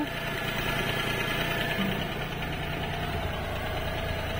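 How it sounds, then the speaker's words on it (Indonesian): A Mitsubishi Jetstar double cabin pickup fitted with a Daihatsu engine idles steadily nearby, a continuous even mechanical hum with slight vibration and no changes in pace. "mesin nyala nah di sini juga bisa lihat mesinnya mesinnya ada logonya Daihatsu"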